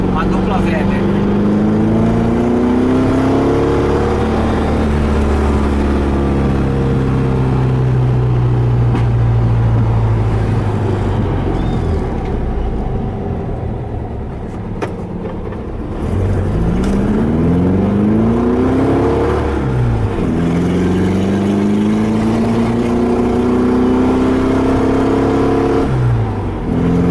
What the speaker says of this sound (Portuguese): E é incrível como ele ficou com o mesmo som do motor do Fuscati antes da gente colocar a dupla Weber